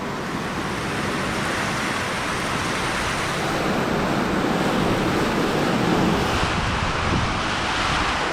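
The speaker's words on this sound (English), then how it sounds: "The wind's so strong." Strong wind from Typhoon Vongfong in Naga City, Bicol, Philippines, roaring through trees as a loud, continuous broadband rush with steady buffeting, alone without talk.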